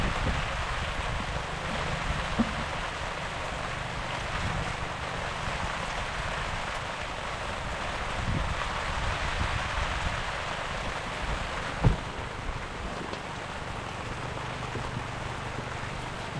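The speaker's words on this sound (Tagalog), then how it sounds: "Pag ganito po yung ulan" Heavy rain falls in a steady, broad hiss, with a distant low rumble beneath and a single faint knock near the end, no voices.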